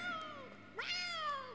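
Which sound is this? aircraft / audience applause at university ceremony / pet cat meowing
pet cat meowing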